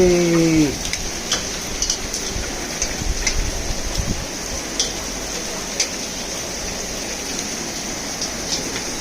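Heavy monsoon rain falls in a town as water runs toward houses, a steady close patter and wash with scattered louder drips and taps, after a brief tonal sound at the very start.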